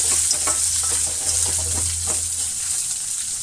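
Chopped onions fry in oil for masala dosa, making a dense, steady sizzle with light stirring taps throughout and no voices.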